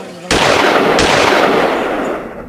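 Two loud, close gunshots about a second apart in the Bundelkhand ravines, each followed by a long booming echo that slowly fades.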